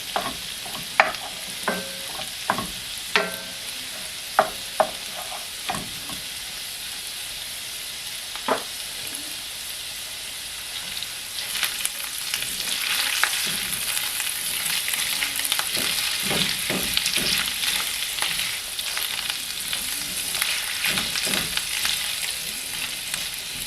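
Carrots sauté in butter in a cast iron pan over medium-high heat. The first half brings sharp, spaced clicks of stirring over a faint sizzle, then the sizzle swells into a loud, continuous frying hiss with scraping.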